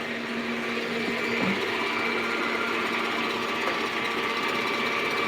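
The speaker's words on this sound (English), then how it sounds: "You might not hear me because of the loudness of the mixer," An electric mixer whipping boiled icing at full speed, a loud steady motorized whir and rattle that runs unbroken throughout with no talk over it.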